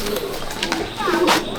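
Pigeons in a competition racing pigeon loft in Nepalganj, soft cooing mixed with faint bird calls and background rustle and chatter, moderately near, low and murmuring throughout.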